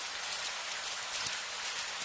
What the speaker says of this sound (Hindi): करीब 15 मिनट बाद बारिश धीरे धीरे कम होने लगी।